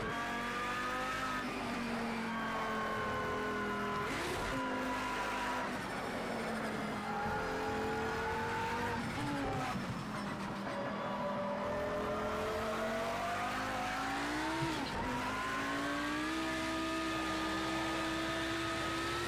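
Race cars in the Forza Motorsport 7 video game roar continuously with rising and falling engine revs, gear shifts and brief tire squeal, loud and steady throughout with no voices.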